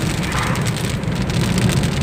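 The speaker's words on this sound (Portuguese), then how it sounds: "Olha a chuva." Steady rain falling in Gameleira, Pernambuco, a constant close hiss of drops on surfaces with no voices.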